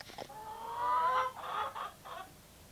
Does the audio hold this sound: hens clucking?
yes